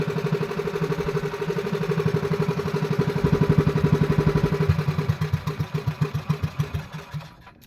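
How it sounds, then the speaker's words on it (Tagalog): A small boat engine idles while trolling for fish, with a rhythmic, chugging putter that slows and fades as it winds down toward the end. "Patayin na lang natin yung makina mga kaibigan."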